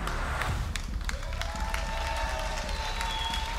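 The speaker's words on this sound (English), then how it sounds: "Some excitement coming in from the crowd." A crowd at an EU LCS Summer 2017 League of Legends esports match cheers and claps, a steady dense roar of applause with scattered whoops throughout.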